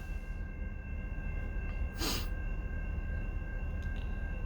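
A train rumbles steadily on double track near a rail yard off Mount Hope Highway on the west side of Lansing, with a brief louder hissing burst midway through the continuous low roar.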